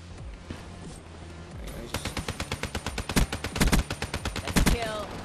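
Rapid bursts of automatic gunfire in the video game Black Ops 3, a steady run of loud, close shots from about two seconds onward over game noise, with sharper heavy blasts mixed in.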